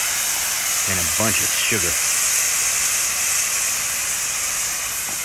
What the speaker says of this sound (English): Got these onions caramelizing. Now I'm just going to add some balsamic vinegar